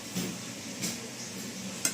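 A spoon stirring a large pot of boiling water for a 5 kg vegetable biryani: faint, soft scraping taps scattered over two seconds, with a sharper click near the end, no voices.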